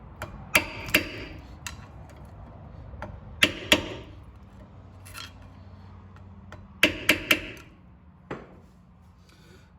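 A light hammer taps a flat screwdriver while front brake pads are fitted on a 2017–2018 Kia Forte: about a dozen sharp metallic taps, single and in quick pairs or triplets, with short pauses, close and fairly loud in a quiet workshop.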